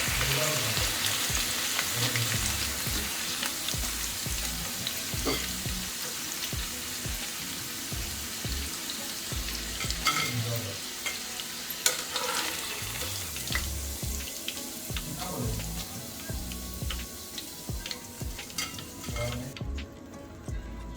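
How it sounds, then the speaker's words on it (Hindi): Chicken butterfly pieces bubble and sizzle in hot oil for Iftar snacks, a steady close frying hiss with occasional clinks of a utensil and pan, ending abruptly. "तो चलिए, हमारे चिकन बटरफ्लाई को फ्राई होते हुए 6 से 7 मिनट हो चुके हैं।"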